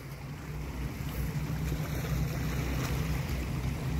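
A boat motor drones steadily at sea on a fishing trip near Fujairah, a low, even hum under wind and wave noise.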